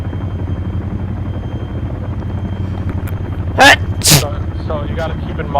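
Two quick sneezes from a person, loud and close, rising over the steady thrum of a helicopter in ArmA, a military simulation game, with a few faint vocal sounds after them.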